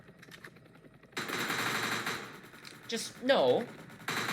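Rapid automatic gunfire in the video game Entry Point, bursts aimed at a gunship, sounding in sustained stretches with a brief pause, while someone talks briefly over it.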